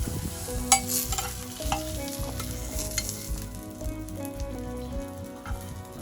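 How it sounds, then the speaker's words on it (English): Fresh catch-of-the-day fish sears in a hot pan in a Maui kitchen, with a steady close sizzle and crackle and occasional louder pops. "A nice sear there."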